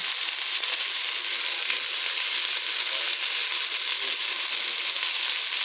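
Bitter melon (ampalaya) frying in a pan with tomato, giving a steady, loud, close sizzle that crackles continuously without pause and with no voices.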